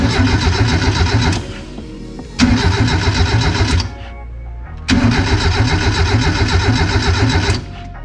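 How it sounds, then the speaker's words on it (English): A Triumph Spitfire's swapped Miata 1.6L engine cranks with a steady rapid whir three times in a row, each lasting a couple of seconds, loud and close, with short pauses between. "the engine actually turns over."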